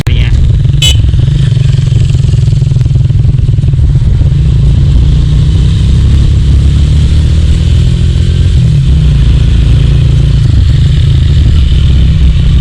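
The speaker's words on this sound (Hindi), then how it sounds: "होंडा CG 125 जिसका जो इनिशियल टॉर्क होता है वो काफ़ी अच्छा होता है, वो भी स्ट्रगल कर रही हैं" A Honda CG 125 motorcycle labors up a steep hill road in the Margalla Hills near Islamabad, its engine droning loud and close without pause while someone talks over it.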